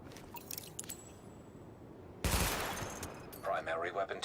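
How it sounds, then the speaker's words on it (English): A sudden loud burst of gunfire at highlighted targets in The Division video game cuts in midway after quiet ambient noise, followed by a few softer trailing impacts and rattles. "Open fire at the highlighted targets."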